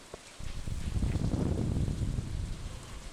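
Rain falling in the video game Stardew Valley, a steady wash of pattering drops that starts abruptly and carries on evenly, with no voices.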